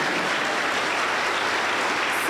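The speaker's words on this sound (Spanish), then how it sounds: "las recibimos con aplausos fuertes para el Señor Jesús" Dense, steady applause from a church congregation, loud and continuous, with many hands clapping at once and no pauses.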